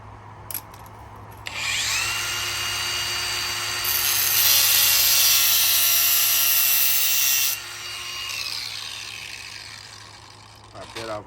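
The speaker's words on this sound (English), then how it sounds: "what we're gonna do is we're gonna cut the flange off" A power tool cuts the flange off an old brake hose during a brake line replacement, a loud grinding whine rising for several seconds then cutting out, close up.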